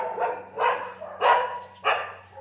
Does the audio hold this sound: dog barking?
yes